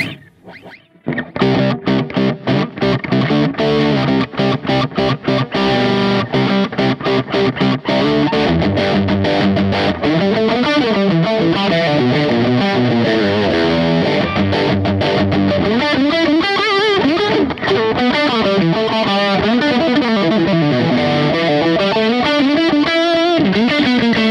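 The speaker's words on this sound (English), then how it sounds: "here are 4 crunch tones I've programmed" A distorted electric guitar plays with a gritty crunch tone, first choppy strummed chords, then sustained bending lead notes, loud and continuous.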